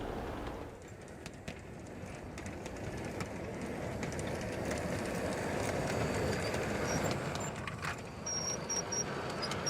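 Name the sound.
garden scale model train running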